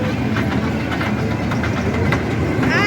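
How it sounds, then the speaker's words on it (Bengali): A tiger-themed children's ride train runs at a fair, giving a loud, close, steady rumble and rattle of its engine and cars for a few seconds, with faint voices in the background. "এই প্রথম দেখলাম বাঘের ট্রেন।"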